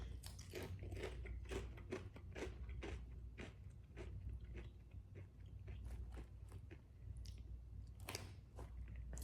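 Crunchy Rap Snacks potato chips being chewed up close, with a steady run of crisp, crackling bites and no talking.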